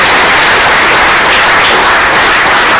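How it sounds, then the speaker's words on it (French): Dense, loud audience applause fills the whole stretch as a continuous wash of clapping, with no pauses or distinct individual claps standing out. "que je vous demande d'applaudir"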